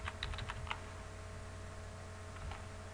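Typing code on a computer keyboard, heard as a quick burst of close, light key clicks followed by a pause and a few more taps over a low hum.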